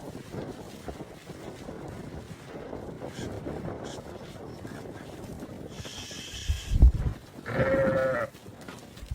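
Sheep in a livestock pen, heard amid wind noise and shuffling movement, with a couple of short bleats or calls near the end rising above a steady outdoor background.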